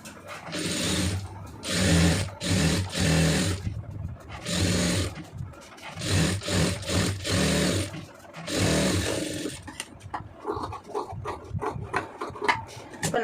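A sewing machine stitches a band onto a blouse lining in several bursts of steady rapid whirring, close and fairly loud, with short pauses between runs and speech toward the end.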